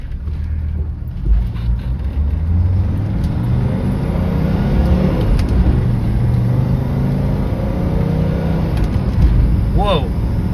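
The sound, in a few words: turbocharged 1987 Mercedes-Benz accelerating in first gear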